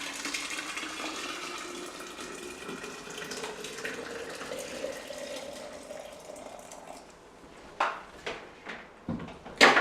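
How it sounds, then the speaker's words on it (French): About a liter of hot water is poured steadily into a container with cranberry herbal tea bags, the pitch rising as it fills, followed by a few louder splashes and clinks at the end. "on va rajouter 1 litre d'eau chaude."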